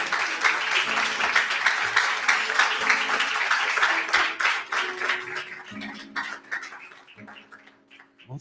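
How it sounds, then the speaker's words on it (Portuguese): Church congregation applauding, a dense, loud burst of clapping that thins out and fades over several seconds, with scattered voices and a held organ or keyboard tone toward the end. "Aplaudam o Senhor Jesus"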